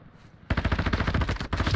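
Warzone 2.0 DMZ gunfire erupts after a quiet moment, loud automatic bursts of rapid shots close by, continuing with a short break.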